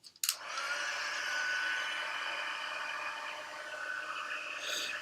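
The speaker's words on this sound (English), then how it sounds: "Excuse the noise. I'm using my heat tool to do that." Heat tool melting embossing powder on a stamped card: a steady, loud blowing whoosh of hot air starts after a brief click and runs on without pause, close to the mic.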